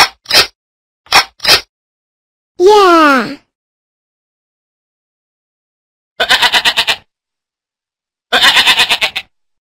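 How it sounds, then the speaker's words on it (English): A cartoon goat bleats close up, with a wavering cry and later two buzzy, stuttering bleats. Short sharp clicks and long silences separate the calls. "Goat."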